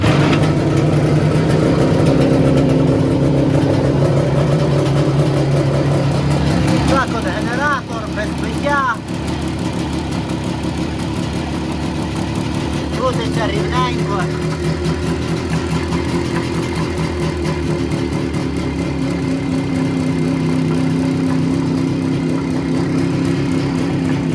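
An IZh Jupiter motorcycle engine runs steadily close by, a continuous mid-pitched drone with slight speed changes, holding throughout without speech.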